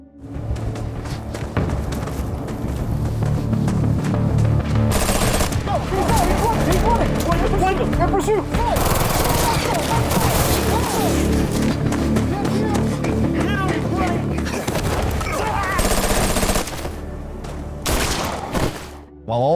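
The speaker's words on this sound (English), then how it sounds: "A wild gunfight breaks out among the tall trees." Gunfight among tall trees in a film, dense bursts of gunfire and booms layered over tense music, loud and continuous with a quieter stretch near the end, while a voice narrates over it.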